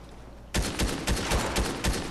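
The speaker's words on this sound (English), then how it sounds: "I'm trying to shoot this op out of the sky right now" Rapid bursts of gunfire in the video game Fortnite start abruptly and continue as a dense, loud volley of repeated shots in an uneven rhythm.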